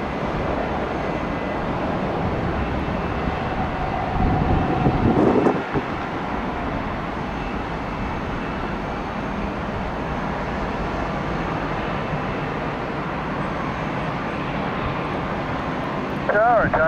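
A jet airliner roars in to land at Tampa International Airport on a chilly day, its engine and wind noise steady and fairly loud throughout, with a brief gusty swell partway through and people talking over it.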